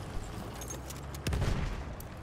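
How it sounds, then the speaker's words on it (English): A Battlefield-style shooter match with a Saint Chamond tank nearby: a steady wash of distant battle noise, then a louder burst of blasts and gunfire about halfway through, with no talking. "Somebody's bombing shit."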